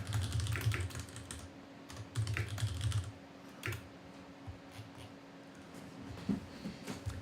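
Close, clattering bursts of typing on a computer keyboard while writing code in an editor, dense flurries that thin into sparse single taps over a low hum.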